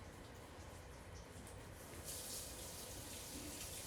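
Water runs steadily and quietly from a tap while skin is washed during catheter insertion care, a continuous soft splashing hiss with no talking.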